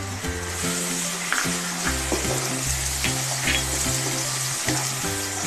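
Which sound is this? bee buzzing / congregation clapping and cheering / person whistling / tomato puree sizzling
tomato puree sizzling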